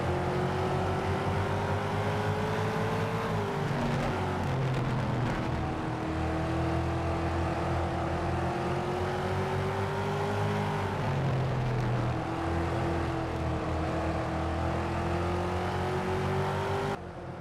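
Stock cars racing at White Mountain Motorsports Park, a short track in New Hampshire, engines roaring steadily at mid distance with rising and falling pitch as the pack circles, continuous and fairly loud with no voices.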